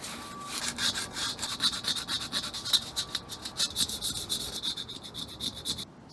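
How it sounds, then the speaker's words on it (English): A grill grate being scraped down by hand, a steady run of rough, rhythmic rasping strokes close up, with no talking. "So here's 1/4 of our grill scraped down."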